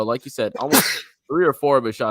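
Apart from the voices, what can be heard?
sneeze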